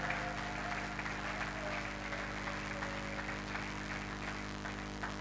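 A church congregation applauds a musical group during a worship service, steady continuous clapping filling the space over a low hum, with no talk.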